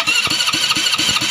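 An Easyride 150 motorcycle with a repaired Bendix starter clutch cranks and starts; loud, close, rhythmic pulsing of the starter and engine, steady throughout with no talk.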